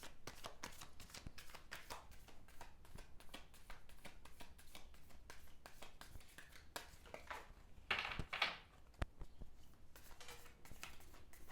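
Tarot cards being shuffled by hand, a quiet steady run of soft riffling flicks and patters close to the microphone, with one brief louder rustle partway through and no talking.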